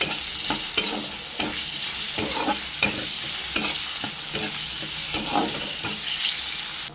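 A spoon scrapes and stirs vegetables with aloo bokhara, amsatta, salt and sugar in a pan, sizzling steadily with repeated close scraping strokes and no talk.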